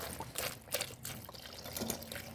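Fresh Kotmale milk is poured into a bowl while making papaya ice cream, a soft, uneven trickling and splashing of liquid heard close and fairly quiet with no voices.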